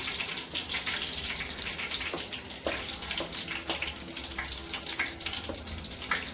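Water runs into a cooking pot holding fenugreek seeds and curry leaves, a steady splashing stream heard nearby at moderate volume with small bubbling ticks throughout.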